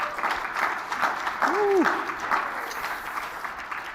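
Live audience applause, a moderate steady patter of clapping mixed with a brief vocal exclamation and some crowd murmur.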